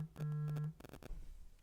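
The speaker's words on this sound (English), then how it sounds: "That's a phone call." A phone call tone plays as a steady electronic beep lasting about half a second, followed by a few short chirps, all fairly faint and with no talking.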